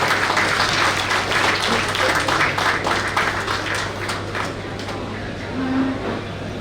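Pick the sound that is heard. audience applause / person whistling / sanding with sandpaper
audience applause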